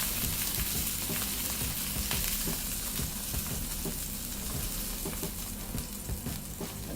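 Bacon and andouille sausage grease sizzles in a pan with a steady, dense crackle and occasional stirring clicks and scrapes, close and continuous.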